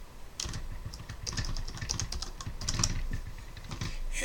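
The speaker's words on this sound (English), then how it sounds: "let's go ahead and let's type in our same keyword, Mendenhall," A search keyword is typed on a computer keyboard: quick, close, moderately quiet key clicks in an uneven burst lasting a few seconds.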